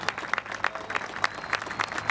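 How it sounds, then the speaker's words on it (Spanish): A crowd claps in applause at a celebration of 100 years of the Argentine Air Force, with a dense patter of many hands and a few louder, more rhythmic claps standing out. "Pido un fuerte aplauso por estos 100 años de la Fuerza Aérea Argentina"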